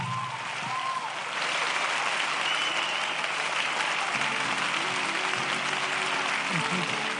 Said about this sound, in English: We can give him another round of applause.